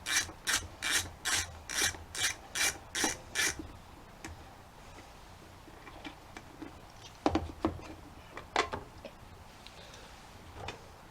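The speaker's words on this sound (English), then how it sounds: "It's easier for me to just use the socket and ratchet." A socket and ratchet loosens a bolt on a tiller. It opens with eight evenly spaced, loud rasping strokes, then irregular sharp ratchet clicks and scrapes follow, all close up.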